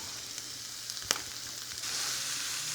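Thinly shaved ribeye steak sizzling in a pan with peppers and onions, a steady loud hiss with a brief clatter as the meat goes in, swelling louder near the end.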